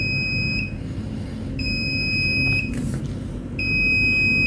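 Alarm buzzer of an electricity monitoring system for power consumption sounds in repeated one-second electronic beeps separated by short gaps, bright and steady over a low constant hum, with no one talking.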